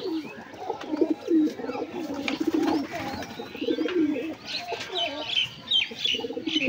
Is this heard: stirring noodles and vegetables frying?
no